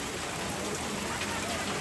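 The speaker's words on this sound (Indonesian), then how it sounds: "Apa nah hujan deras ini?" Heavy rain falling steadily at a Toraja customary ceremony at a tongkonan house, a dense continuous hiss with no breaks, moderately loud.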